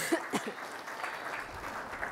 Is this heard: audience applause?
yes